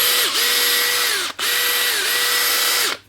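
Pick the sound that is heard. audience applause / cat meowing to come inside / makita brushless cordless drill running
makita brushless cordless drill running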